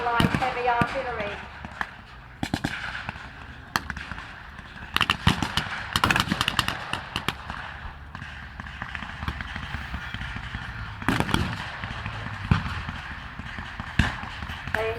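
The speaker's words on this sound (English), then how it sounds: "Bravely they move forward into the Allied heavy artillery." WW2 battle re-enactment with heavy artillery and gunfire, sharp scattered bangs and bursts of varying loudness, some near and some distant, under ongoing commentary from a speaker.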